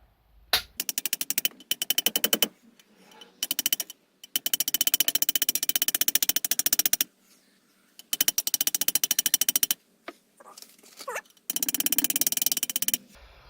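A cleaning rod is tapped repeatedly to drive a stuck .22 LR squib bullet out of a rifle bore, in bursts of rapid, crisp metallic knocks separated by short pauses, with no talking.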